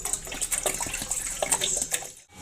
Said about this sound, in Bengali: মানে পানি দিয়ে দিচ্ছি